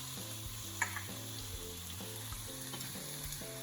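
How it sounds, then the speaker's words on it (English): Onions and garlic sautéing in a pan, a faint continuous sizzle sitting beneath louder tonal background music, with one small clink and no talking. "And you just saute that for about 2 to 3 minutes until the onions soften."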